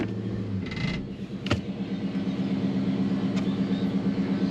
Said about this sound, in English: 6-speed with the wiggly shifter